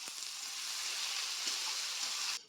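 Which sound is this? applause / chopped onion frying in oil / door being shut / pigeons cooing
chopped onion frying in oil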